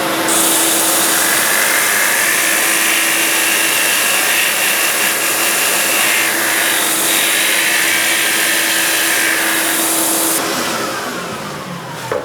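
A wood lathe spins a large salad bowl while it is sanded on the inside edge, a loud steady whirring hiss and motor whine running continuously before winding down near the end, no talk.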